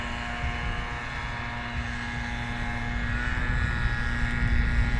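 Eurofighter Typhoon jets at RAF Coningsby give a steady, loud engine roar with a sustained whine that builds slightly toward the end, with no voices over it.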